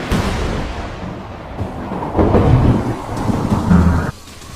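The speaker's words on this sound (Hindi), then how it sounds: "सूखी घास पर पानी की बूंदें पड़नी शुरू हो गई हैं" Rain falls on dry grass in the Serengeti, a dense wash of drops with low rumbling thunder rolling beneath it, loud and close, then cutting off abruptly near the end.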